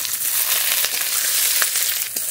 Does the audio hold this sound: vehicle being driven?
no